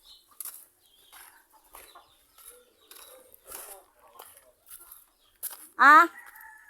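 Scattered short clucks and scratchy fowl noises come and go, then a louder, rising chicken squawk rings out near the end.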